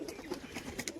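A domestic pigeon coos softly in short, repeated notes while birds move about nearby. Faint background sounds run beneath the calls.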